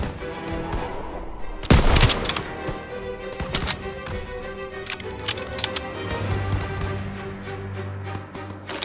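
Gunfire in the World War II shooter Call of Duty WWII, Operation Stronghold: sharp, loud shots and bursts crack out repeatedly over a constant battlefield din, with the heaviest blasts near the two-second mark.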